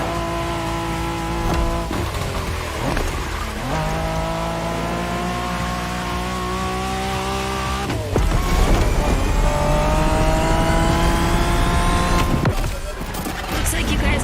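Race cars roar through a race in the video game The Crew Motorfest, with engines revving and shifting through rising gear tones, a sharp burst around the middle, and tire noise, all loud and close.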